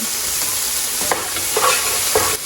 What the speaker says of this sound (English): and then we're gonna toss in the onion. Stir it up a bit